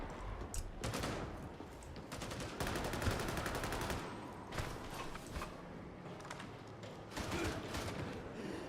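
Enemy gunner in the Darktide video game firing sustained bursts of automatic gunfire, loud and dense, with rapid volleys continuing almost without pause.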